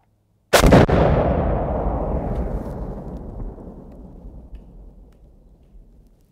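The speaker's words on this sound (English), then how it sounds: "I had to get a nice fiery explosion in there" A shot from an FN F2000 rifle sets off a fiery explosion. One sudden, very loud blast is followed by a long rolling rumble that slowly fades, with no talking.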